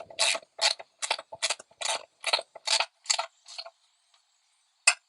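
A hand ratchet wrench tightening rear bumper bolts on a 1967 Lincoln: about ten quick, close, evenly spaced bursts of metallic clicking, then a pause and one last click.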